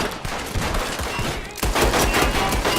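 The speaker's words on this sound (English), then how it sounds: "However, the easiest way to settle things is just shooting people." Western-style gunfire in the video game Red Dead Redemption 2 crackles in dense, rapid volleys. Close shots overlap continuously, and the barrage grows louder and thicker partway through.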